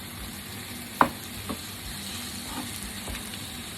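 A kilo of beef mince sizzles and fries in a pan, a constant close crackle with a sharp clink of the utensil against the pan and a few softer scraping stirs afterward, with no talking.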